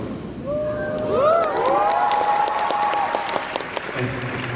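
A conference audience bursts into loud applause mixed with cheers and whoops, the clapping continuing steadily before thinning out.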